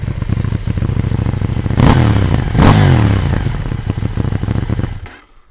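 Close, loud idle of a KTM Duke 790 motorcycle with 105 horsepower, broken by two quick throttle blips that rise and fall, before the engine is cut off and goes quiet.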